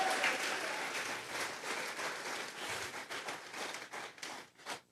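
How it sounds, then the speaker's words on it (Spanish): A church congregation claps together in praise during a Tuesday Bible study service, a dense, steady roar of many hands that holds for several seconds and then thins out and fades near the end. "Vamos a regalarle ofrenda de palmas al Dios de la gloria"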